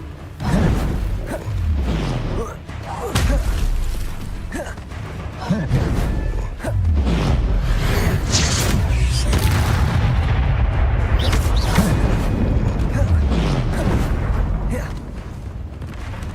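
Repeated booming Incendio fire spell blasts in Hogwarts Legacy, a series of heavy explosive thumps with whooshing bursts over a dense battle backdrop, spoken voice lines mixed in.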